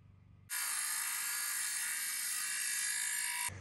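A small Ryobi cordless saw whines at high pitch in one steady, loud burst of about three seconds, starting and stopping abruptly with no talk.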